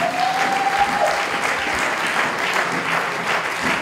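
Church congregation applauding at a service, a loud, steady wash of many hands clapping throughout, with a faint voice briefly audible at the start.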